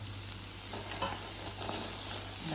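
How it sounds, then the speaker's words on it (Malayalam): Shallots, garlic and ginger sauté in a pan, giving a steady, close sizzle with light stirring scrapes and soft clinks throughout. "ചെറിയ ഉള്ളി വെളുത്തുള്ളി ഇഞ്ചി ഇതും കൂടി ഒന്ന് വഴറ്റിയെടുക്കാം"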